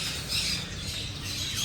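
Two parrots squawk in a brief, close burst of harsh, raspy calls over a noisy background.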